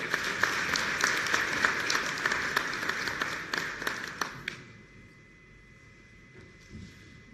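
An audience at a South African national service institute launch, with military officials present, applauds loudly and steadily for several seconds before the clapping fades out abruptly, leaving quiet room tone.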